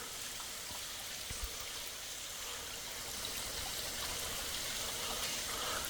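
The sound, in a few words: waterfall on the Dix River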